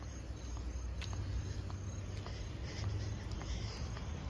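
Steady, faint chirping of crickets over a low background hum in September, continuous with no other sounds standing out.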